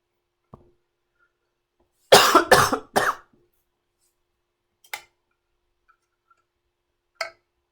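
A cluster of three harsh coughs in quick succession, followed later by two short, quieter throat sounds, with silence between them.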